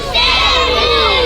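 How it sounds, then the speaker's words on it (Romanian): A large crowd at a swimming competition roars and cheers loudly and continuously, with shrill children's shouts mixed into the dense wash of voices. "Aplauze pentru Selim!"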